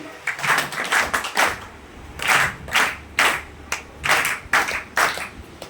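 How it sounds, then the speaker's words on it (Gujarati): An audience at a devotional gathering claps in unison, giving sharp, close bursts of applause in quick groups of three that repeat several times. "આપણે એને ફરીથી 3 તાળીએ વધાવીએ"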